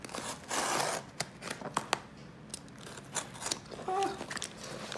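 A knife cuts along the seam of a package of silver coins, producing faint, close, irregular scratchy slicing and crinkling strokes with brief pauses.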